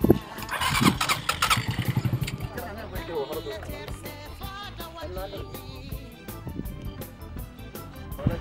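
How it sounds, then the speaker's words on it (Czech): A motorcycle being taken across to the other side, its engine revving and sputtering up close at first, then settling into a lower, uneven running note, with voices talking over it. "Musíme přeplavit s motorkou na druhou stranu"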